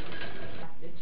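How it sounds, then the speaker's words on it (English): An old but trusted sewing machine runs in a family sitting room, a dense, continuous mechanical whirring and clatter heard close, with a voice talking over it. "making the costumes for her husband and children for over 20 years on an old but trusted sewing machine"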